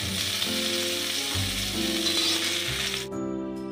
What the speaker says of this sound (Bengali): কাঁচকলা, উচ্ছে, বেগুন আমার ভাজা হয়ে গিয়েছে